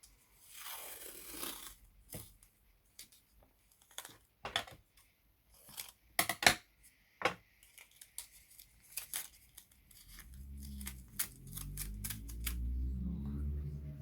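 A series of sharp metallic clicks and clacks as scissors are handled and set down, followed by a low rumbling hum toward the end.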